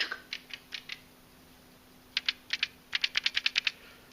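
Mylar solar filter film on an SvBony SV510 solar telescope squeezed by hand, giving sharp crinkling crackles, a few spaced bursts and then a quicker run of about ten close, fairly faint snaps with no talk.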